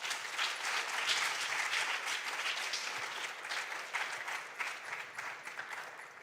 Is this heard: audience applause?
yes